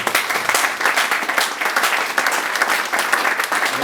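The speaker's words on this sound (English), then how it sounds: "I want you all to give a good clap for this video." Audience applause at a speaking event, a dense, steady wash of many hands clapping that carries on loud and unbroken throughout.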